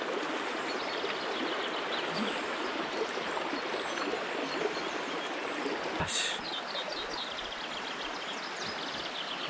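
A high, fast-flowing river stream at a trout fishing spot rushes in a steady, close wash of water, continuous and alone without voices.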